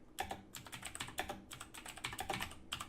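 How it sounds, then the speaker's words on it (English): Rapid clattering keystrokes on a computer keyboard in uneven bursts, close by and fairly quiet, with no talking. "I'm just typing that in"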